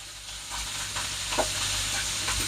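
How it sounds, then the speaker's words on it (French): Chanterelle mushrooms frying in a pan with butter and olive oil produce a close, steady sizzle and hiss, with a faint stir or pop midway and no speech. "on se revoit après pour la cuisson à la poêle. Allez, c'est parti mon kiki. Il y a du beurre, il y a de l'huile d'olive, il y a de la chanterelle"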